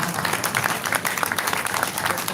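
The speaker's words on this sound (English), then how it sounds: "I think the applause is loud" An audience at a faculty of ophthalmology annual lecture applauds the chairman, with steady, dense clapping filling the hall throughout.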